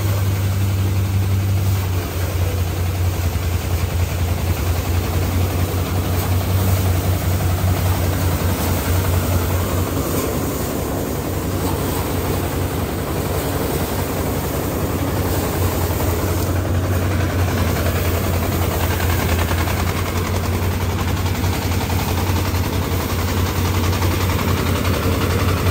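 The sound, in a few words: engine-driven auto paddy threshing machine threshing wet paddy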